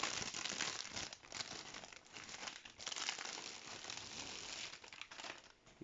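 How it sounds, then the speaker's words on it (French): Plastic or paper bag from a Shin Megami Tensei V collector's edition for Switch being opened, with steady crinkling and rustling that keeps going throughout, close up and fairly quiet, and nobody talks. "Ensuite, on va ouvrir le fameux sac."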